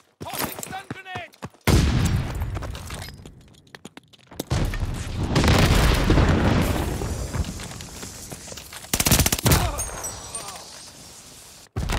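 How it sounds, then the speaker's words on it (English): A stun grenade bursts during a Call of Duty search-and-destroy match: loud, crackling blasts mixed with rapid gunfire and booms, interrupted by brief lulls, with a voice calling out now and then. "Toxic stun grenade!"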